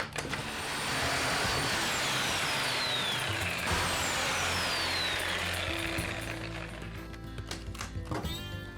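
A power saw blade cuts steadily through wood, a loud continuous whining buzz with a descending pitch sweep, running for several seconds before tapering into rattling and clatter near the end.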